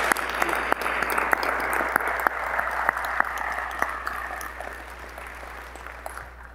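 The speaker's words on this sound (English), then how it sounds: "can I ask for a small round of applause for everybody?" Audience applause at a medical school convocation ceremony, a steady broadband clatter of clapping with sharper individual claps standing out, sustained throughout before tailing off at the end.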